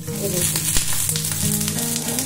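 Sliced okra hitting hot oil after the spice tempering crackles in a steady, loud sizzle throughout, with a brief clatter as it is stirred in the pan.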